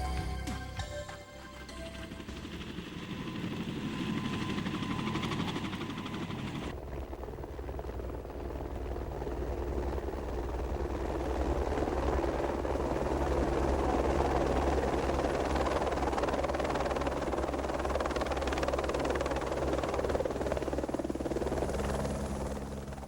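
A helicopter's rotor thrums steadily and loudly over Mendenhall Glacier in Alaska, a continuous whirring drone that fills the whole stretch after a brief quieter start.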